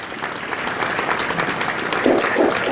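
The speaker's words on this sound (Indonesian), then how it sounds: "kepada para hadirin mohon memberikan aplaus" Audience applause after a joint ministerial decree signing ceremony, a steady patter of clapping from a gathered crowd that swells slightly toward the end.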